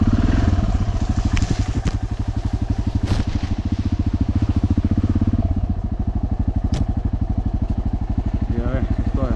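Motorcycle engine running steadily and close on a rocky trail during a TET ride in Bosnia and Herzegovina, a dense continuous throb with a few clattering knocks.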